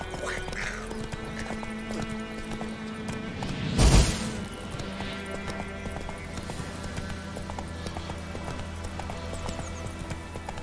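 In The Witcher 3 video game, the horse ridden by the main character gallops with a steady clip-clop of hooves under game ambience and music, with one brief loud thud partway through and faint speech at times.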